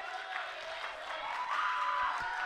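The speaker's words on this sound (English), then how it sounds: "let's give a little round of applause for Jason" Small indoor audience at a school choir concert clapping for a young drummer named Jason, a soft, distant, steady patter of applause with faint crowd murmur.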